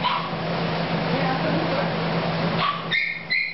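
Dogs in a medical ward of an animal shelter whimper, yip and bark in a steady, echoing din, with someone talking softly near the end.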